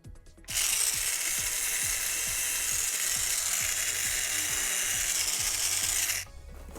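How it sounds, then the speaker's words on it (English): Sanding a clump of hardened CA glue off a homemade Boba Fett jet pack gives a steady abrasive hiss with quick rhythmic scraping strokes, close and alone for several seconds. "So that I will need to go ahead and sand off"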